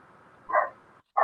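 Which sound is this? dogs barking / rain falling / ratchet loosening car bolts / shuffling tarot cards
dogs barking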